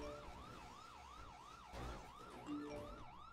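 A wailing vehicle siren from a GTA roleplay game, its rising and falling sweep repeating steadily throughout at moderate loudness over a low background rumble, with no talking.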